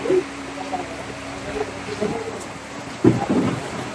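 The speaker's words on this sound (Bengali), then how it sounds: "বৃষ্টিটা একটু থামার জন্য ওয়েট করতেছি" Heavy rain pours at the Mawa ferry ghat as a constant broad hiss. Low rumbles and thumps swell near the middle and again toward the end, with muffled voices faintly underneath.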